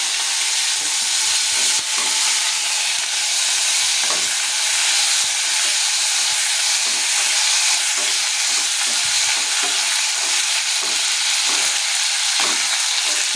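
Onion frying in hot oil over a gas flame, a loud, dense sizzle that hisses steadily and close-up, with faint occasional stirring knocks underneath and no talking.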